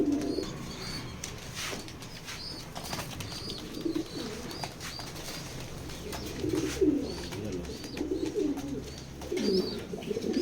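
A big, vigorous male pigeon coos repeatedly in low throaty bursts, close and fairly steady, over a constant background hiss with faint higher chirps from other birds.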